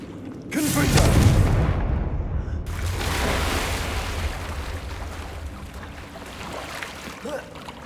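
A Confringo fire spell in Hogwarts Legacy bursts with a deep booming blast that swells for a couple of seconds, then a second rumbling whoosh follows and slowly fades under ambient game noise.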